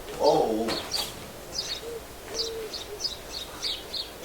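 A bird gives repeated short calls and chirps, several brief notes spaced through the stretch after an opening burst of noise, moderately close with no speech.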